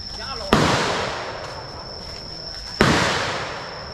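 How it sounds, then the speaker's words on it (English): Two loud gunshots crack at a public shooting range at Vietnam's Cu Chi tunnels, each followed by a long echoing decay, spaced about two seconds apart, with faint voices in the background. "a shooting range, which is open to the public for those who wish to do some target shooting"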